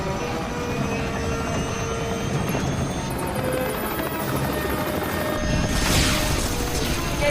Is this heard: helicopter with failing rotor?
yes